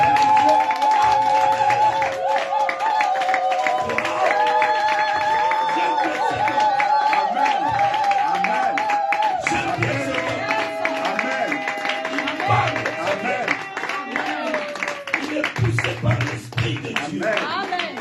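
A church congregation applauds and cheers in a sustained wash of clapping that carries on for many seconds, with voices and a sung or sustained tonal line running through it.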